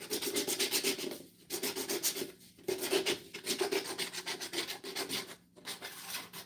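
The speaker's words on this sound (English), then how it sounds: "we're just gonna sand it real quick" A craft piece is sanded by hand before painting, with rhythmic back-and-forth rasping strokes broken by brief pauses, close and moderately loud.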